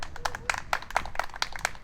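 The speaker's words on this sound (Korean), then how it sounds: "다시 한번 뜨거운 박수 부탁드리겠습니다." A small crowd at an outdoor railway union rally in front of the rail corporation building in Daejeon claps in a sparse, quick patter of individual hand claps, moderately close and steady over a couple of seconds.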